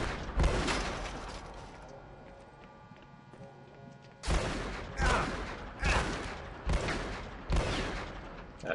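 Gunfire from the survival horror video game AfterFall Insanity: a few sharp, loud broadband shots, then a quieter stretch with a hum, followed by a steady run of four or five evenly spaced heavy blasts.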